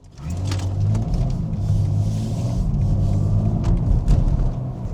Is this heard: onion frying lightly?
no